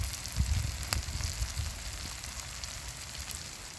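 Eggs and tomato sizzle in a frying pan, a steady crackling fry with scattered pops and low clatter near the start, close and moderately loud with no talking.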